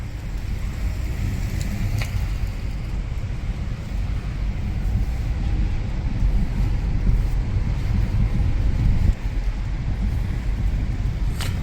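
Inside the cabin of a 2015 Dodge Grand Caravan as it rolls through a parking garage, a steady low engine and road rumble fills the space, with a faint tick or two and no one talking.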